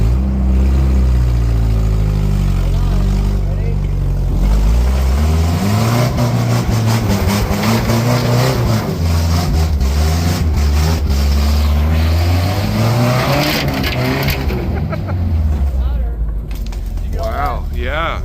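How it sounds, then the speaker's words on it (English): A 1989 Jeep Comanche pickup doing a burnout on dirt, the engine loud and close, climbing and falling through repeated revs as tires spin, with people's voices mixed in. "You did a dirt burnout with the bastard truck."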